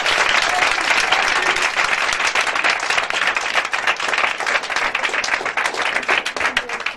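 A church congregation claps loudly and continuously in praise after a dance. The dense, close applause is steady for several seconds, with a faint murmur of the crowd beneath.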